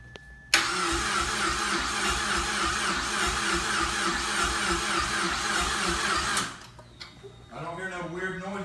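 A built Mazdaspeed 6 engine fires up on its first start with a sharp catch, then runs at a loud, rough, steady idle for several seconds before cutting off, after which voices talk nearby.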